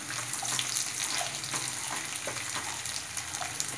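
Steady crackling sizzle of spices frying in hot oil after onions, for a Hyderabadi mutton curry, continuous and close, with a few sharper pops and no voices.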